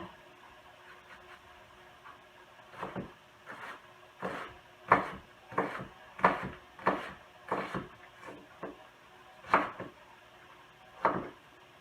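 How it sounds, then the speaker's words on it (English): A kitchen knife in need of sharpening chops an onion on a cutting board: about a dozen crisp, woody thuds, irregular at first, then a steady run of evenly spaced cuts, close and clear with no talking. "I'm just going to cut up my onion while we're waiting for the pan to get hot"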